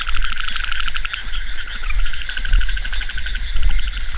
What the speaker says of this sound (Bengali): খুব সুন্দর ব্যাং ডাকতেছে।